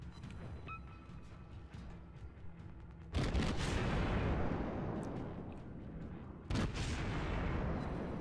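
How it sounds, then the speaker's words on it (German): Battleship naval guns firing in the World of Warships game: two loud, booming salvos, the first at mid-clip and a second a few seconds later, each rolling on over a low background rumble. "Der Schuss geht raus."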